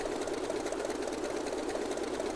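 Grumman F3F propeller engine idling in a flight simulator, a steady, fast, buzzing drone with no pauses or talk.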